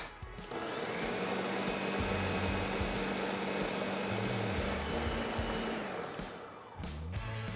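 A blender runs continuously, pureeing homemade hot sauce, a loud steady motor whir with a shifting pitch as the contents churn, then winds down near the end.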